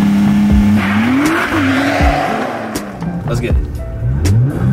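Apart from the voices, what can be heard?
Nissan GTR car accelerating and revving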